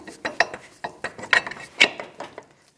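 A parking brake shoe adjuster on a Chevy Trailblazer is turned with a screwdriver or pry bar, giving a quick series of close, sharp ratcheting clicks in an irregular rhythm.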